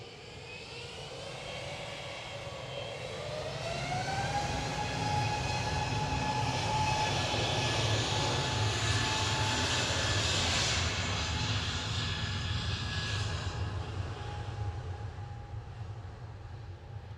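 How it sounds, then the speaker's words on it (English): A SAS Connect Airbus A320neo jet departs Manchester Airport, its engines building into a loud, sustained roar with a steady rising whine that swells, holds, then slowly fades, with no talking. "Scandinavian 2548 to Stockholm Arlanda departing now, operated by SAS Connect. This is A320 Neo"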